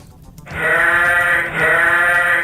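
Goats bleat loudly and close by in two long, wavering calls, one right after the other.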